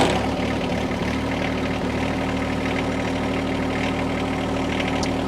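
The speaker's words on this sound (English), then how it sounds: "you can go ahead and start the tractor up" A John Deere tractor engine idles steadily, a loud, constant low rumble with a throbbing hum that runs the whole time without a clear start-up.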